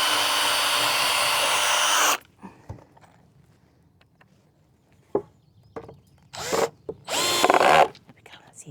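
A power drill bores a pilot hole in recycled wood at an allotment, a loud steady whir for about two seconds, then quiet with a few brief knocks and short bursts of handling noise.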